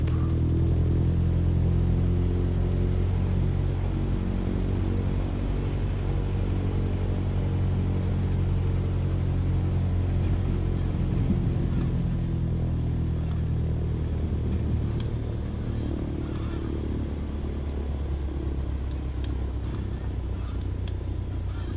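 Aircraft engine held at full throttle on a runway in Microsoft Flight Simulator, a steady loud low droning rumble with layered tonal hum that runs unbroken throughout, with no talk over it.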